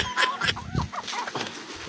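Chickens cluck and squawk nearby, several birds calling over one another against a busy outdoor background.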